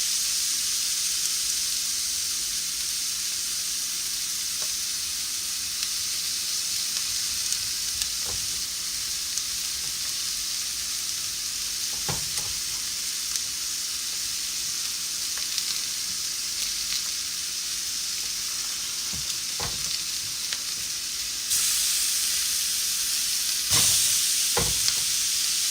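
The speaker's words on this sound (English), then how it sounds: "You hear that sizzle, chat? Sizzle, sizzle." Food sizzles steadily in a smoking-hot pan, a loud continuous hiss with occasional faint clicks and taps and a brief rise in intensity toward the end.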